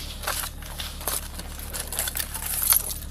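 A bunch of keys jangling as they are dropped back into a purse, a continuous close metallic rattle and clink throughout with no talk.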